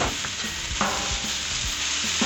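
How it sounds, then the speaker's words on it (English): Hash browns fry in canola oil on a flat-top griddle, giving a continuous close sizzle broken by repeated scraping and pressing strokes from a spatula. No one speaks. "So the first thing we're going to do is get the hash browns onto the flat top."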